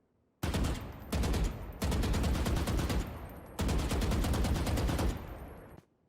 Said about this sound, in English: This is a very good weapon to shoot in bursts.